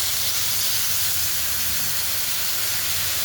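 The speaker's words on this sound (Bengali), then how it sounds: "একটু ভাজতে দেবো। এবার আমি একটু হলুদ দিয়ে দেবো।" Potatoes and spices frying in a pan, making a loud, continuous hissing sizzle that holds steady and close throughout with no breaks or voices.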